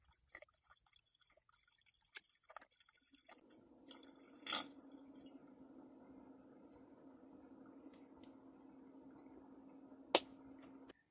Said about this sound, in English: So I fill it with vinegar water solution in order to help prevent mold and mildew buildup inside the drain line